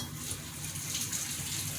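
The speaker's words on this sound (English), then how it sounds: "We wash our hands." Steady running tap water splashing in a kitchen sink while hands are washed, a continuous close hiss with no talk.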